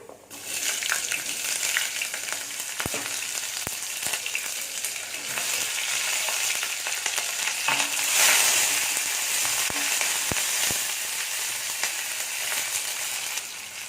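Sliced shallots, green chillies and tomatoes sizzling in hot oil for idli sambar, a steady loud crackle throughout with occasional stirring clicks and scrapes.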